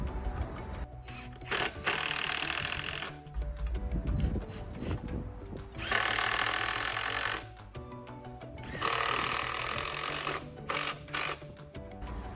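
An impact driver runs 3-inch, quarter-inch-thick lag bolts into a 6x6 wooden post, with loud ratcheting bursts in several runs separated by short pauses.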